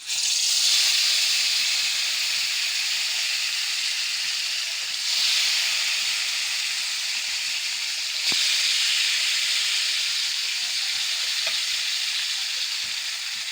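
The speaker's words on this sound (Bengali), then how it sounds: "এখন ভেজে নেব।" Koi fish coated in turmeric and chili frying in a pan, a steady loud sizzle and hiss with small crackles throughout, no talk.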